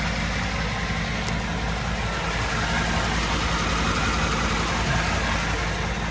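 A 1958 Chevrolet Impala with a fuel-injected 350 V8 idles nearby, a steady, even rumble with no revving.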